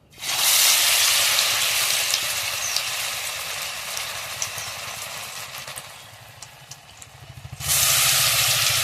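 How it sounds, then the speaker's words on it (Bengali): Potato and onion pakoras frying in hot oil, a loud, dense, continuous sizzle that swells and fades slightly, then surges sharply near the end. "তেলটা ভালোভাবে গরম হয়ে গেছে, এবার আমি আলুর পকোড়াগুলো ছেড়ে দেবো।"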